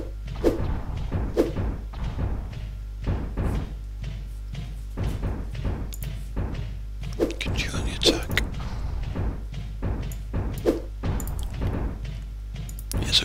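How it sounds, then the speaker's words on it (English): Plasma grenades exploding in the top-down shooter Infested Planet, a dense stream of repeated dull thumps and booms under game effects throughout. "they're throwing the grenades"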